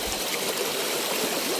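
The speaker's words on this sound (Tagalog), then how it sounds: "Tatawirin muna natin itong ilog mga hunter" A river flows in a steady, even rush of water, close and fairly soft, a short stretch of broadband hiss with no voices.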